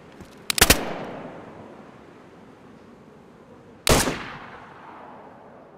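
Gunfire in a multiplayer video game: a quick cluster of sharp, loud shots near the start, then a single heavy shot with a fading echo almost three seconds later, over a low ambient background.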